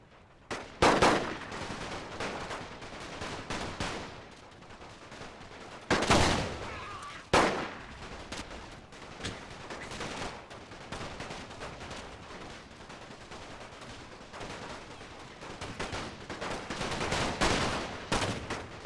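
Rifle infantry battle gunfire in a World War One siege in the Great War Total War mod: a steady crackle of distant massed rifle fire with several louder, sharper volleys bursting out over the din.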